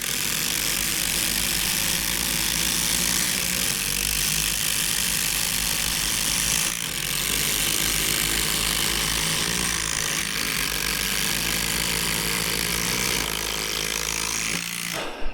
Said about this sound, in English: we're going to start with the Milwaukee first, and then the regular impact, Skil brushless, the right angled impact